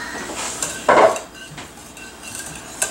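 Mac and cheese ingredients stirred in a bowl for a crockpot recipe, a spoon clinking against the bowl with a louder scrape near the middle, then softer scraping.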